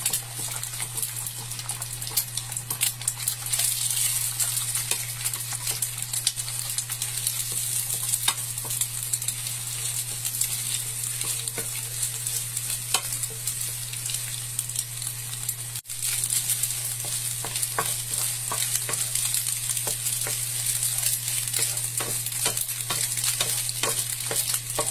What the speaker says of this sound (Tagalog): Kung mainit na ang kawali, ilagay natin ang itlog. 2 egg po ang ating ipiprito dito.